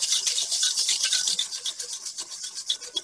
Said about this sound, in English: when I'm whisking, I'm going in a circular motion